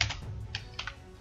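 Quiet keystrokes on a computer keyboard, a handful of separate clicks spaced unevenly over a low background hum, with no talking.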